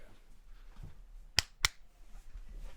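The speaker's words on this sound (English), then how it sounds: "let's just do another clap." Two sharp hand claps, close and crisp, spaced about a quarter second apart over a quiet room background.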